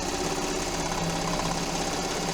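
A sewing machine stitches a quilt. Its steady, close, mechanical whir runs continuously and loudly, with no voices over it.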